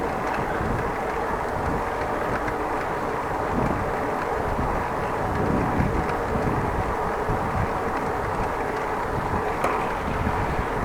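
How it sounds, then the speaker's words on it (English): Wind blowing over the microphone while cycling on a Dutch bike path, a constant broadband rushing and buffeting with uneven gusts and low rumble throughout. "we do have a little wind at the moment, not only from the forward driving, but also because it's a little wind blowing"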